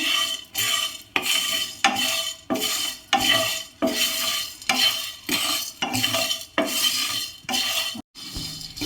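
Coriander seeds, black pepper and dried coconut are dry-roasted over low flame in a pan, with regular rhythmic scraping of a spatula against the metal and light rattling of the seeds, close and clear with no talk.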